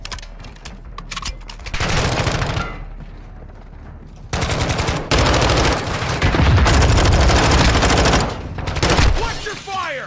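Dense bursts of automatic gunfire and rapid volleys from a military special-operations shooter game, loud and sustained across most of the stretch, with short pauses between heavy fusillades.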